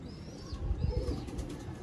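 Pigeons from a pair of breeder birds coo softly in a low, murmuring rhythm, with a brief higher bird note overhead, fairly faint and close.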